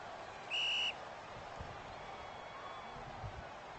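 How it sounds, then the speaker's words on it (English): A referee's whistle gives one short, shrill blast over a quiet crowd murmur at an American football game, with low rumbling in the background afterward. "So it's going to be whistled here."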